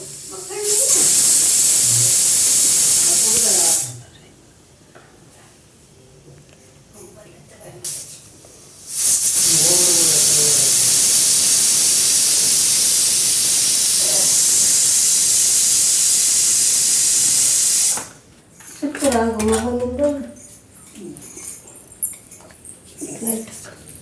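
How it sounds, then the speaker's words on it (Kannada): Pressure cooker cooking chicken biryani, loud sustained hissing steam bursts lasting several seconds each, two long releases with a quieter gap, with brief voices and kitchen sounds between and after. "ನೋಡಿ ಕುಕ್ಕರನ್ನು ಕ್ಯಾಪನ್ನು ಹಾಕಿ ವಿಸಿಲ್ ಹಾಕಿದೆ"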